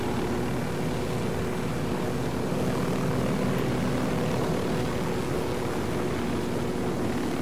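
Helicopter in Ghost Recon Wildlands flying low, its rotor and engine drone loud and continuous throughout with no break.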